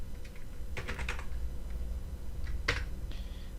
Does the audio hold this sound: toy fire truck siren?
no